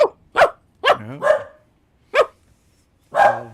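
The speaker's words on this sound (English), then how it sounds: "I sometimes have dogs in the background." A dog barks close by in sharp, separate bursts, about six barks spread unevenly with short pauses, loud and alone apart from one brief spoken word.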